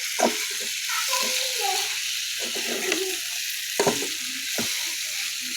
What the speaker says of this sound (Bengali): তো চিকেনটা লাল লাল করে ভেজে নিব এখন আমি সস দিয়ে দিব